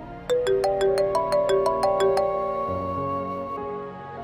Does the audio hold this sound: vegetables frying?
no